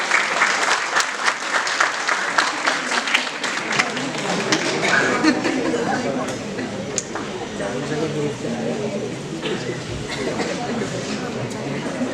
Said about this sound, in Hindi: कृपया तालियों से आपका स्वागत करें।